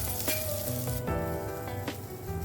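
A frankie roll roasting in butter on a hot pan sizzles steadily up close, with a few sharp clinks of a utensil against the pan and no talk.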